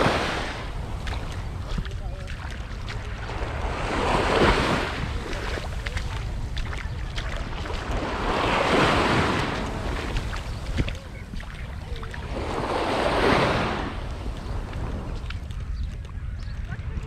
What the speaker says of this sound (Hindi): सारा ये बीच है, देखें सारा पूरा समंदर दिख रहा है आपको